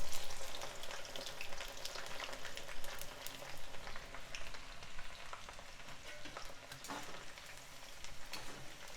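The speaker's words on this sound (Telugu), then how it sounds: "ఇలా చేసి పెట్టుకున్న ఈ బెండకాయల్ని ఇలా మూకుల్లో నూనె వేడి చేసుకున్నాను కదా, ఇందులో కొన్ని కొన్ని వేసుకొని వేయించుకోవాలి" Okra fries in hot oil in a pan, a dense, even sizzle with crackling pops, heard alone at moderate volume.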